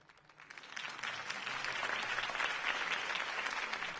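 A crowd at Harvey Dent's campaign rally in Gotham bursts into sustained applause after his speech, a dense wash of clapping that swells in and holds steady, somewhat distant, in the Batman Telltale game.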